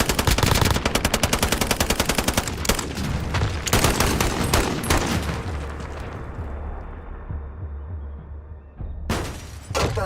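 Gunfire in Call of Duty: Modern Warfare 2019 multiplayer, rapid loud automatic bursts cracking close by, then heavier scattered shots and a booming blast before a lull and a final burst.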